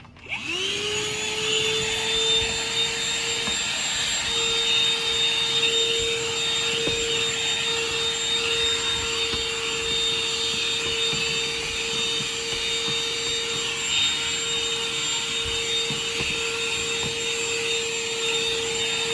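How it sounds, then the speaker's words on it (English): A loud, steady vacuum cleaner runs continuously while cleaning the back seat area of a car being readied for rideshare passengers, its whine holding without pause and no one speaking. "This vacuum is loud"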